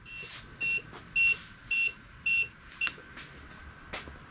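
A series of regular electronic beeps from the turn signals of a Denzel Samurai carbon fiber dual sport electric motorcycle, about five evenly spaced chirps, close and clear against quiet background clicks.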